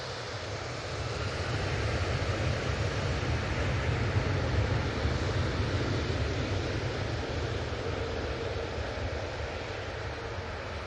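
A jet aircraft at Manchester Airport roars steadily and loudly for the whole stretch, a broad rumbling engine noise with no breaks.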